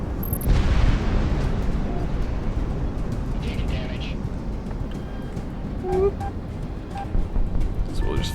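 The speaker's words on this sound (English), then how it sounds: "I'm gonna bomb them." Bombs bursting in the modded flight-combat game Project Wingman: a loud, dense, continuous rumbling roar throughout, swelling slightly near the end, with faint higher blips and tones scattered over it.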